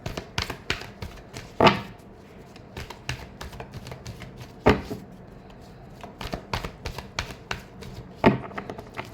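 Tarot cards are shuffled by hand, a run of quick crisp riffling slaps and taps with a few louder bursts, close and alone.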